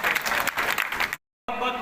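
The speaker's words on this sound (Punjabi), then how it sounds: "ਇੱਕ ਵਾਰ ਜ਼ੋਰਦਾਰ ਤਾੜੀਆਂ ਫੇਰ ਮਾਨਵਤਾ ਕਲਾਮਾਨ ਸਾਹਿਬ" A crowd at a village celebration of Dr. B. R. Ambedkar's birth anniversary near Phagwara claps loudly and densely, close and steady, broken by a brief silent gap before the clapping resumes.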